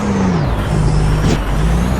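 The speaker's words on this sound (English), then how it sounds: "with this truck, you will undoubtedly hear the engine brake." A Peterbilt 351 truck in American Truck Simulator runs its engine brake, a loud, close, throaty diesel drone with a low pulsing rumble and a brief rasping burst midway.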